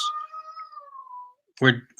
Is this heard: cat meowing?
yes